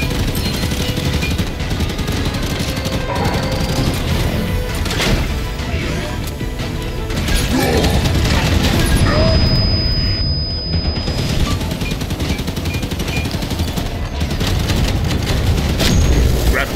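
Dense, continuous Halo 5 battle noise as a grab core is destroyed, with booming explosions, crashes and rapid gunfire layered into a loud, sustained din.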